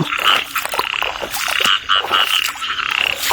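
Frogs croak in a dense, pulsing chorus nearby, steady and loud against heavy rainfall in the countryside at the start of the rainy season.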